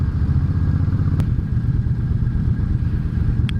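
A Suzuki Intruder V800 V-twin motorcycle engine idles at a stop, giving a steady, loud, deep rumble with a throbbing low-end pulse and a couple of brief sharp clicks, no talking.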